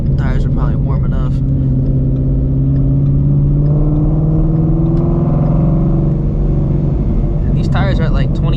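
A supercharged Shelby GT350 engine drones loud and close through a hard pull, its steady rising tone dominating, with brief voices talking at the start and end.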